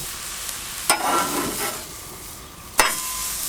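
Smash burger patties sizzling on a hot griddle, a steady close hiss of frying fat broken by a few sharp scraping clicks of a metal spatula.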